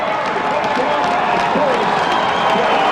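A stadium crowd roars and cheers after a touchdown at Taylor Field in Saskatchewan on a chilly Sunday afternoon, a steady, loud, dense wash of voices and applause holding without break throughout.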